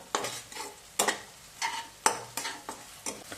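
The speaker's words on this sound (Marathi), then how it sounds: "कांदा टोमॅटो असे छान बारीक कापून परतवून घ्यायचे ते असं सारखं हलवत राहायचं आहे" Finely chopped onion and tomato sizzle in a pan while a spatula stirs them in repeated scraping strokes, close and steady with soft frying underneath.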